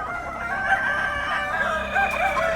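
Philippine pure-breed native roosters (Banaba, Paraoakan or Joloano) crow in a pen, a drawn-out crowing call at moderate distance over faint farmyard background.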